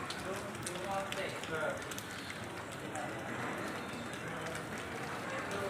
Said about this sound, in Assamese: তো বৰষুণ চাওক